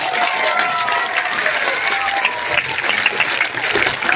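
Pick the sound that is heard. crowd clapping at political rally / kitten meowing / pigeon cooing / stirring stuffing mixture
crowd clapping at political rally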